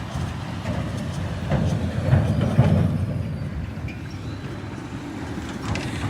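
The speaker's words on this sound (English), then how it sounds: "There's another tram coming." A tram rolls along city street rails in Helsinki's centre on a snowy afternoon, a low steady rumble that swells as it passes close by, then eases back into the street ambience.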